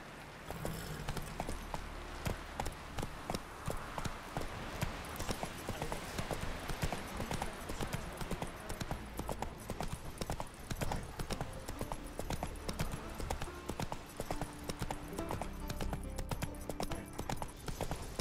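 Steady, close clip-clop of the horse Roach's hooves in The Witcher 3, a regular trotting rhythm that runs unbroken from start to finish with game music or ambience underneath.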